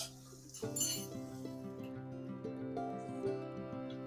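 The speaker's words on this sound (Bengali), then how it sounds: "এবার আমি ঢেকে দেবো যাতে ভালো করে সেদ্ধ হয়ে যায়" A metal lid is set onto a biryani pot holding fried cauliflower, giving one bright clink followed by a long ringing metallic tone that slowly fades, close and fairly quiet.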